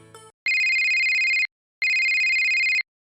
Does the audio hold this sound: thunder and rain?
no